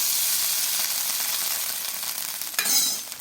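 Mustard seeds and white sesame seeds sizzle in hot oil with a steady, close hiss that flares up briefly near the end, with no voices.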